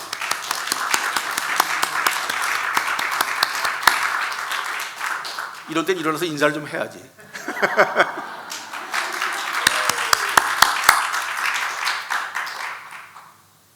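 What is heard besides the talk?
audience applause in church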